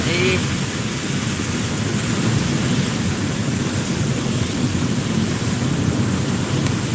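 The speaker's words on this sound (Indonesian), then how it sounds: "Nah kita masih hujan juga" Steady rain roars in a dense, continuous wash while riding a motorcycle in wet weather between Bati-Bati and Landasan Ulin, loud and unbroken throughout with no clear talk.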